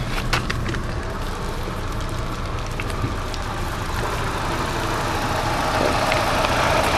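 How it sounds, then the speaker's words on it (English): A 2000 Daewoo Lanos 1.6 engine idles with a steady, even rumble and a constant hiss, holding at the same level throughout. "a nice smooth running engine"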